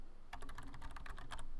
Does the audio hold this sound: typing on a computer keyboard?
yes